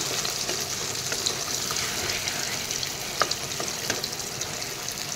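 Meat in gravy sizzles and fries steadily in a pan while being stirred, a continuous close bubbling hiss with occasional scraping clicks.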